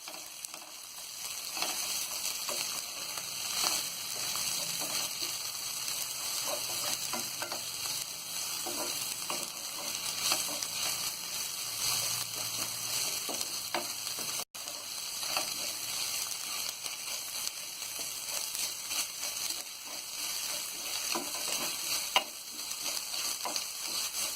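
Ginger paste sizzles and fries steadily in a pan while a spoon stirs it now and then, for a baingan bharta dish; a continuous bright crackle with no talking.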